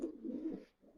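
A racing pigeon in a loft gives a short, soft, low cooing call, close and faint, with a brief pause before it fades.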